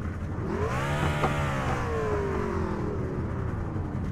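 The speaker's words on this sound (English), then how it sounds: "Hey, these guys could quit revving up them motors now." Race car engines revving before the start, one engine close and loud, rising and falling in pitch through a drawn-out rev that sweeps down, with other motors droning underneath.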